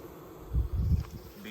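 Agitated honeybees buzz at a swarm trap at night, close and low-pitched, in short pulsing bursts over about a second.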